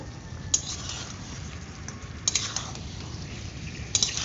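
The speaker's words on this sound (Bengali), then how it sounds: "এবার নাড়িয়ে নেব" Marinated chicken with onions, red chilli powder and turmeric being stirred in a pan, a soft steady scraping with a few sharp utensil clinks against the metal.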